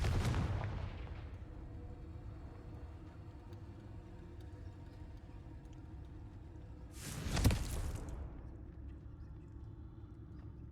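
In Hogwarts Legacy, a Confringo blasting spell goes off as one loud explosive burst partway through, rumbling and fading over a low game ambience, with a softer thud at the start.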